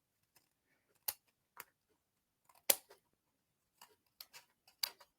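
Scissors make a scattering of short, crisp snips while trimming vellum paper, a dozen or so sharp clicks at irregular intervals, close and otherwise quiet.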